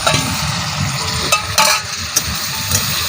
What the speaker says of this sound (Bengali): দেখো মা আবারও নেড়েচেড়ে একদম ভালো করে মশলাটার সঙ্গে কষিয়ে নিচ্ছে।